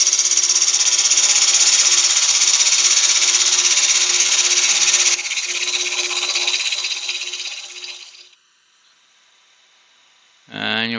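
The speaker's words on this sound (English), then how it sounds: "couple more cuts. No reason, just, and I'm just using the wing of the gouge." A wood-turning gouge cutting a textured vase on a lathe, shaving with the wing of the tool: a loud, continuous hissing cut that eases down and stops near eight seconds, then a short burst of cutting returns at the end.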